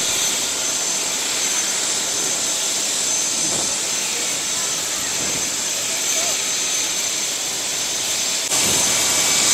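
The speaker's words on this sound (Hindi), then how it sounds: "दो दो हेलीकॉप्टर यहाँ पर चल रहे" Two helicopters running on the ground while students disembark after a ride, giving a loud, steady whine and rushing engine roar throughout, with voices talking underneath.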